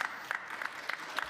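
A lone person claps slowly in a New York City Council oversight meeting, about five separated claps with pauses between them, moderately distant in a quiet room.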